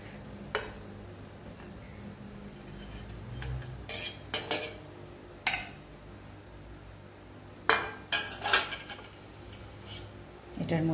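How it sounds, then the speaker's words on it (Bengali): Mango pieces dropped and scraped into a mixer jar with a spoon, several sharp clinks and knocks scattered over a quiet kitchen background. "এবার এটা মিক্সিতে ঘুরিয়ে নেওয়ার জন্য আমি এটাকে মিক্সির মধ্যে নিচ্ছি।"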